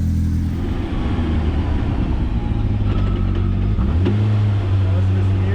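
Turbocharged 500-horsepower four-cylinder Polaris RZR Pro R side-by-side driving, a loud, steady, close engine drone that shifts pitch near the end as it revs.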